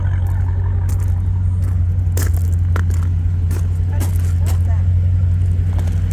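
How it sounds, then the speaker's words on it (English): A car exhaust at a Sunday car meet, a steady low rumble idling throughout, loud and close, with a few sharp crackles and people talking over it. "I just can't get over how nice that exhaust is on this car."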